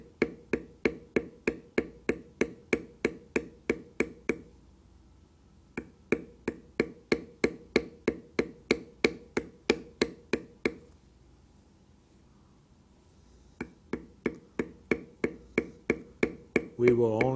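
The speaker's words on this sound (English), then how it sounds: "we're just very carefully beveling a line along the top of each feather." Steel beveling tool struck rhythmically into carved leather along a mallard duck's wing feathers, a steady run of sharp close taps in bursts separated by short pauses.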